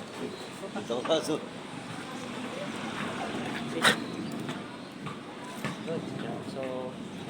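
A dog barks and whimpers in short, scattered bursts under steady talking, with background noise throughout.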